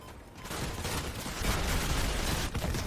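Hurricane rocket launchers fire in the vehicle combat game Crossout, a dense, continuous barrage of roaring launches and explosions that swells and stays loud throughout.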